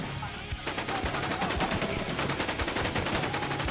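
MP7 submachine gun firing in a video game, rapid steady automatic bursts of sharp shots running almost continuously, loud and close.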